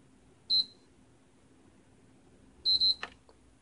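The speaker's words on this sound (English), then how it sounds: "you're gonna wait for two quick beeps and then you're gonna let go" A PlayStation 3 console gives a single short high beep, then after a pause two quick beeps with a click as it enters safe mode, sharp and close over a faint steady hum.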